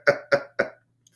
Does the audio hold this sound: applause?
no